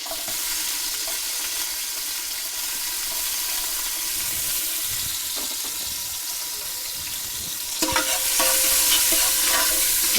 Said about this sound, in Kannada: ಈ ರೀತಿ ಕಾದಿರೋ ಎಣ್ಣೆಗೆ ಹಸಿಮೆಣ್ಸಿಕಾಯಿನ ಸೇರಿಸ್ಕೊಳ್ತಾ ಇದ್ದೀನಿ. ನಂತರ ಈರುಳ್ಳಿಯನ್ನು ಕೂಡ ಸೇರಿಸ್ಕೊತಾ ಇದ್ದೀನಿ